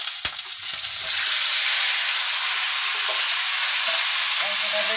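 Marinated chicken hits hot oil with fried onions and spice paste in a wok, a sharp clatter, then a loud, steady sizzle that fills the rest with faint stirring.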